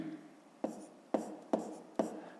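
A pen writes numbers by hand on paper during a fifth-grade maths exercise, with four sharp, evenly spaced taps and strokes over faint scratching, close and quiet.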